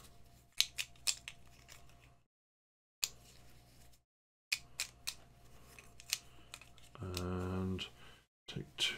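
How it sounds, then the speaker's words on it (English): Board game cards for Maracaibo being shuffled by hand during a solo setup, with soft scattered riffling and clicking bursts, a few short pauses, and a brief low thud near the end, faint and close. "So let's just shuffle them around."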